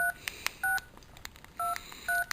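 Keypad tones from a Samsung SGH-D900i phone: several short, clean beeps pressed one at a time with irregular gaps between them, close and clear against a quiet background.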